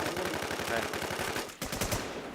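Rapid automatic gunfire from an Infestation video game match, a dense rattling burst of shots that runs steadily for most of the stretch, briefly cuts out, then resumes with a few louder individual cracks.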